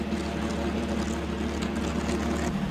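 A P-51 Mustang's piston engine runs steadily during its warm-up before run-up, giving a loud, continuous, even drone with no break and no talking.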